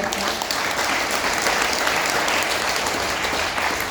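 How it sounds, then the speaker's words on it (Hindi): Steady, dense audience applause at a Hindi talk on parenting and youth, an even roar of many people clapping at constant loudness throughout. "आप ताली बजाएं।"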